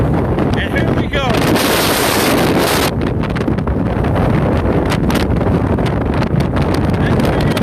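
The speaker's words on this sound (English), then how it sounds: "I got good inflow wind." Strong gusty wind at a storm chase near a tornado, roaring and buffeting hard against the microphone in a loud, unbroken rush with sharp bursts of turbulence.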